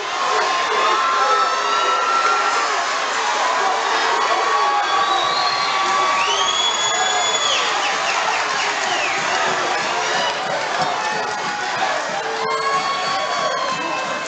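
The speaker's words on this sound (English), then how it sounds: "the crowd was so loud you couldn't hear the bell" A packed boxing crowd roars loudly and continuously, with shrill whistles and high shouts rising above the dense cheering throughout.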